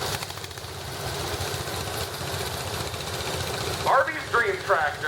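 At an outdoor parade, a 1966 Colt 12-horsepower garden tractor with hydrostatic drive runs with a steady, mid-pitched engine idle, and a person starts talking near the end.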